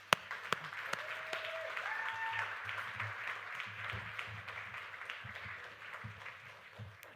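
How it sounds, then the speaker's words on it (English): Audience applause at an evening pitch event, a sustained crowd of clapping heard from a distance, with a few sharper close claps and some faint voices mixed in. "give yourself a round of applause for being here tonight"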